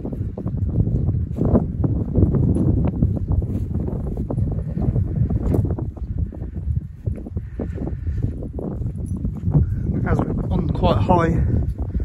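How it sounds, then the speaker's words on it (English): Wind gusting across a high, exposed bank beside the old Great Central Railway line near Helmdon Viaduct, a steady rough buffeting roar at the microphone that swells and eases without a break, with a voice talking over it. "it gets really windy, it's cold."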